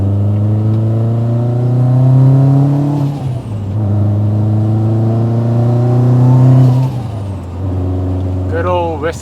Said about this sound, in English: Good old Whistly Precision Turbo.